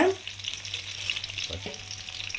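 Garlic and cumin seeds fry in hot oil for a brinjal kara kuzhambu, giving a steady, close sizzling hiss with a brief louder burst at the start and a faint stir midway.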